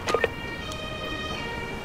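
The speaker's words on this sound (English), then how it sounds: "The ambulance is taking the casualty to the hospital ward at the base." Ambulance siren in the Emergency 5 video game, a steady wailing tone over a low vehicle rumble, preceded by a couple of short clicks.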